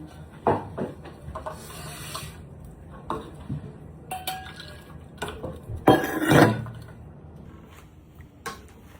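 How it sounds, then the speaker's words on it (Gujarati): A spoon stirs Gujarati kadhi made with buttermilk in a pot, producing irregular metallic scrapes, clinks and knocks at close range, with a louder clatter midway. No talk is heard. "હવે એને ઉકળે ને ત્યાં સુધી હલાવી જવાનું એને"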